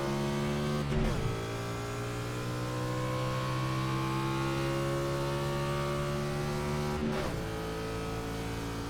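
Xfinity stock cars race at Pocono in the iRacing sim, a loud steady engine drone with rising pitch as they accelerate, broken by two quick gearshift dips about six seconds apart, with no voices.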